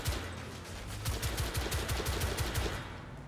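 Rapid, sustained automatic gunfire from The Order: 1886 on PS4, a steady rattling burst of shots running nearly the whole way through at close, loud level with no talking.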